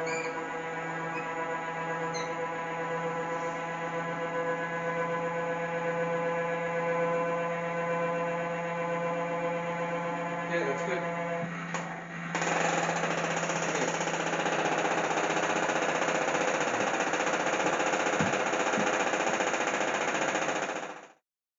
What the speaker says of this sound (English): now when she stops cranking, it's going to make an awful racket. It's not broken, that's just the gears disengaging